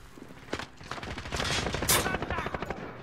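Rapid automatic gunfire rattles through a Call of Duty: Modern Warfare match, a dense run of bursts that swells toward the middle, with a voice talking over it.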